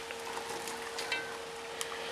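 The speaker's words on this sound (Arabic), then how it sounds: "هسه حمست البصل ويا البوتيتة" Potatoes and onion fry together in a pan, giving a soft, continuous sizzle with faint scraping from occasional stirring, quiet and close throughout.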